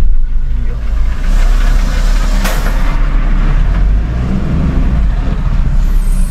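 A car engine idles low and steady on a narrow hill road near Ooty, jammed in traffic, with a constant rumble and a brief brighter hiss partway through.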